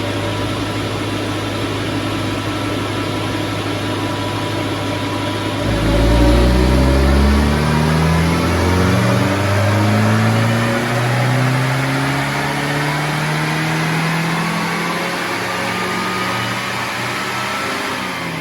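A car's engine idles, then revs up strongly under load during an on-the-road tuning run, climbing smoothly through the gears with a steady droning roar and no talking.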